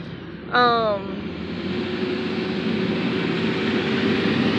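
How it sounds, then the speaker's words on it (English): A garbage truck rumbles past nearby with a low, steady engine drone, briefly marked by a rising tonal whine near the start. "There's trucks going back and forth"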